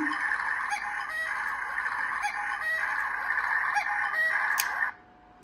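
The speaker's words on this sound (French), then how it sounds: "Et là, il y a un petit coucou qui sort." A cuckoo clock bought at a Christmas market in Alsace sounds its bird call, a run of repeated, evenly spaced calls heard close by that cut off abruptly near the end.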